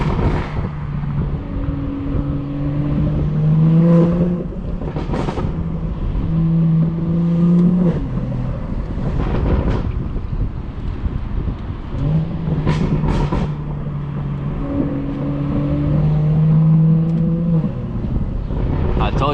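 A BMW 440i accelerating hard on curvy roads, heard from inside: repeated engine pulls climbing in pitch and cutting off between gear changes and corners, loud and close, with occasional talk over the top.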